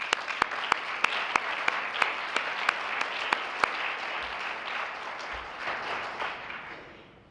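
A crowd at an outdoor groundbreaking event applauds the sisters, a steady wash of clapping with sharp individual claps standing out in a regular rhythm, fading toward the end.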